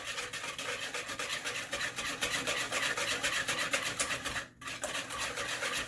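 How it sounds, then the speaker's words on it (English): Sugar is whisked with four eggs in a bowl for a melting chocolate cake: a quiet, close, fast rhythmic scraping of whisk strokes that runs steadily, dipping briefly near the end before resuming. "We're gonna whisk it in with the 4 eggs."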